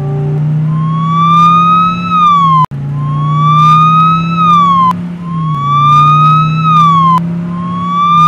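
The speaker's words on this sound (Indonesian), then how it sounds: "Kok banyak banget ambulans lewat mulu dari tadi?" Ambulance sirens in an Indonesian street scene wail in loud, repeated rising-and-falling sweeps, about three cycles back to back, with a steady engine-like drone underneath and no talking.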